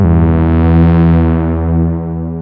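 A loud, sustained synth bass tone with rich harmonics and plate reverb, holding one pitch and slowly tapering off over about two seconds, with no voice.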